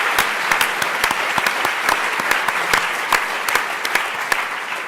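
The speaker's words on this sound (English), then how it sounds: "So, round of applause to them" A conference audience at the UIST 2023 closing keynote applauds steadily for about five seconds, a dense, even wash of many hands clapping with no voices over it.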